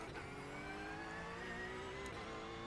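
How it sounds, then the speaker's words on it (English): A race car with a 4.2-litre flat-six engine in the iRacing sim racing game holds a steady, fairly faint drone whose pitch slowly rises as it revs, heard alone without voices. "Engine on. Let's get some idea of the sound."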